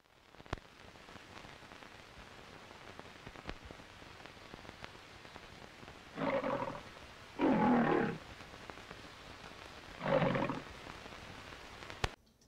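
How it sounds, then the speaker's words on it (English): Lion roar from the MGM studio logo featuring Telly the Lion, in its full version: three raspy roaring bursts spread over several seconds, separated by faint hiss and stray clicks of old film. "One has the full roar."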